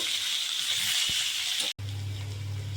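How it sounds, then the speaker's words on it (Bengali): Bright, hissing sizzle of jackfruit and potato frying in oil, nearby and steady, interrupted by a brief cut before a duller, lower frying sound continues. "এঁচোড় আলু ভালো করে ভেজে নেব।"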